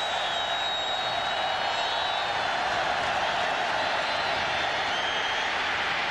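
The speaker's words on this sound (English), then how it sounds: "Listen to the crowd." A packed football stadium crowd at Tennessee versus Arkansas in 1999 roars in a steady, broad wash of noise, distant and sustained without a clear peak, with no voices standing out.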